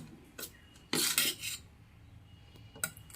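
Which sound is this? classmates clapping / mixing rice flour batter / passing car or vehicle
mixing rice flour batter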